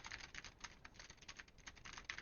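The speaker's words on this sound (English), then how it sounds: "if I type on a keyboard" Rapid typing on a computer keyboard picked up through a RIG 900 MAX HX headset microphone, a quick, uneven patter of soft clicks, fairly faint and continuous.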